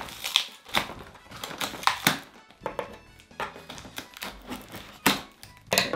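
A flapless cardboard box for the Oddworld: Soulstorm collector's edition is torn open by hand, with a rapid series of close, rough ripping and crinkling bursts and short pauses between them.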